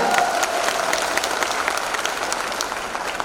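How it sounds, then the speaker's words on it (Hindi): Steady audience clapping at an indoor business presentation in Patna, a room of people applauding evenly and fairly close for a few seconds, with no talk over it. "ताली बजाइए, ये आपके लिए है।"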